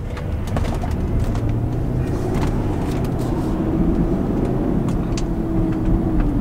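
A Mercedes-Benz GL450's engine hums as the SUV accelerates, a steady low drone rising slightly over the seconds, with birds cooing and chirping outside.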